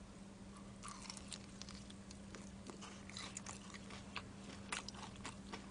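Crisp crunching bites into soy sauce fried chicken with crackly skin, close and steady, repeated chewing crunches with no talking.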